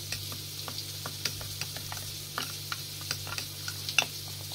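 Chicken masala being stirred through paneer in a pan, quiet continuous frying hiss with a regular series of light scraping stir strokes and a low steady hum beneath.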